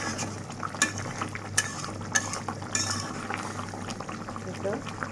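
Potatoes are sautéed in a spice masala for a Kalbaush fish curry with beans, giving a soft sizzle broken by periodic spatula clinks against the pan and a faint voice in the background.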